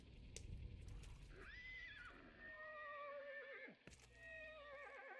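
A horse in a video game neighs loudly several times in a row, with high wavering whinnies and a short snort, amid faint hoof sounds.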